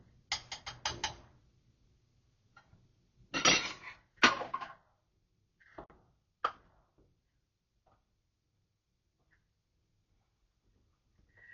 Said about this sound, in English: And I'm going to stir